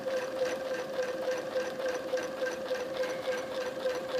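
Domestic sewing machine running steadily while free-motion quilting, a continuous close mechanical whir with an even rapid stitching rhythm and no pauses or talk.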